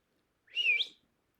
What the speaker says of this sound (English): I opened the kitchen door and whistled.